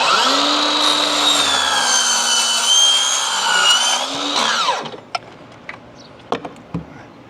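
A power saw whines loudly through aluminum railing for about five seconds, pitch sagging as the blade bites, then winds down, followed by a few sharp clicks and knocks of handling, no voices.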